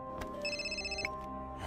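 A telephone rings in a cartoon with bright electronic tones, a short tonal burst held for about half a second before a click, set over a soft background bed with no one speaking.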